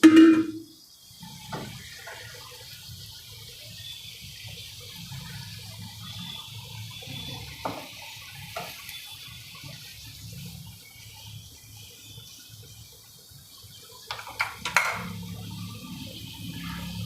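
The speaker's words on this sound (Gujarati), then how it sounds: "એમાં આપણે છાશ નાખશું એકથી દોઢ ગ્લાસ" Buttermilk poured into a pot of simmering Kathiyawadi dhokli curry, a faint liquid trickle and splash in a quiet kitchen, with a few soft clinks near the end.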